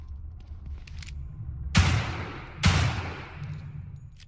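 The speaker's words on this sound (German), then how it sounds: "das waren zwei Schüsse für den Arsch" Two sharp gunshots in the survival horror game The Evil Within 2, spaced about a second apart, each a loud blast with a decaying tail over a low ambient drone.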